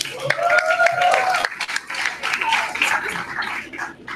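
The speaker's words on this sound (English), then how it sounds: "I would like to ask the audience to give another round of applause for myself." An audience at a university debate grand final claps, a busy patter of hands that briefly dips midway and then resumes, with some background voices mixed in.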